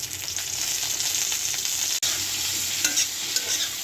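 Onions and chopped tomatoes hit a hot frying pan beside mrigal fish, giving a loud, steady sizzle with scraping stirring strokes throughout and a brief break near the middle.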